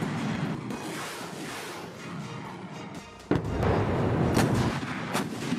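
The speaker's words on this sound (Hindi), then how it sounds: "नए रॉकेट, हॉवित्जर तोप से प्रशिक्षण सटीक हमले करते दिखे चीनी जवान" Chinese PLA artillery fires rockets and howitzers in a training drill: a rumbling roar of launches with a sudden heavy blast partway through, followed by sustained loud booming and crackling, no voices.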